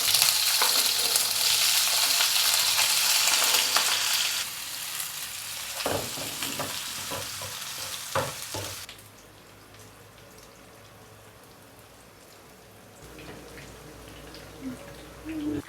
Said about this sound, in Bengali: যেহেতু আমার নাগেটস এবং ফ্রেঞ্চ ফ্রাইটা একটু ডিপ ফ্রাই করতে হবে